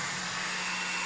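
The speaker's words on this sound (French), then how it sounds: "Ensuite, je prends le sèche-cheveux." A hair dryer blows steadily to dry paint on a painting, a continuous close whooshing hum at low level with no voices.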